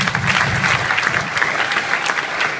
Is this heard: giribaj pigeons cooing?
no